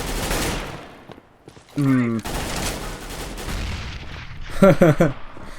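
Gunshots and bursts of rapid fire in the video game CS:GO, loud close shots scattered across the round amid in-game noise, with a sharp burst near the end.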